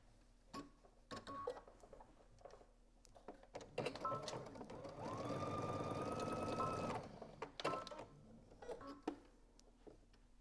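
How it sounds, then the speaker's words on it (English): A sewing machine runs a steady stretch of top stitching along a dress vent, a rapid mechanical whir lasting a few seconds, framed by scattered clicks and handling taps of fabric and presser foot before and after. "you're gonna just top stitch probably about an inch and a half"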